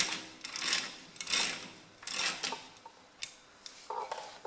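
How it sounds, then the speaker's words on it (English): A 1 1/16 socket works a bolt on the lower pin of a Ferguson tractor, giving quiet ratcheting bursts and metallic clicks in uneven spurts, close by with no voices. "Now an 1 1/16 socket, I'm just going to undo this bolt here on the lower pin"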